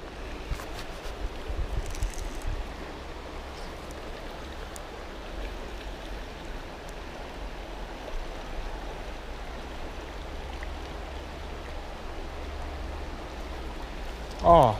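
A shallow trout stream flows in a steady, even wash of water noise that holds throughout, with a brief louder bump at the very end.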